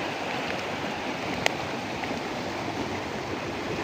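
The Letang river in Nepal flowing as a stream, a steady close rush of moving water with a constant broadband wash and one brief sharp click, no talking.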